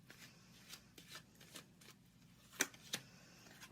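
Tarot cards being shuffled and handled during a reading, a soft papery riffle with a few sharper flicks and slaps near the end, close and quiet with no talking.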